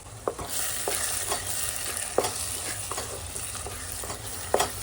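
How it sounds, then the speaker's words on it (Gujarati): Spices, including Kashmiri red chilli powder, sizzle steadily in a hot pan, with a few sharp clicks and scrapes from stirring spaced through the constant crackle. "કાશ્મીરી મરચાંનો કલર આવી જાય ત્યાં સુધી આપણે સાતળવાનું છે"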